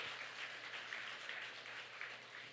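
Faint, steady applause from a church congregation during a festive Sunday worship service, a dense wash of clapping lasting a few seconds with no voices on top.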